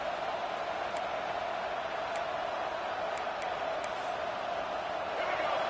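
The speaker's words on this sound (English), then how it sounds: "wow, listen to this crowd noise. This stadium is vibrating." A dense, steady roar of a large stadium crowd in a college football video game, UCLA vs Notre Dame, hums continuously with faint whistles and shouts rising above it.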